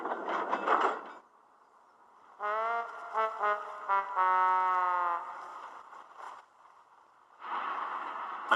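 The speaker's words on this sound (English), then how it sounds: "As soon as the tide was high enough, Henry was craned out of the water" A crane hoists a tank engine out of harbour water at high tide in a children's animated railway story, giving mechanical whirring and ratcheting with tonal squeals for a few seconds, set between louder stretches of background music.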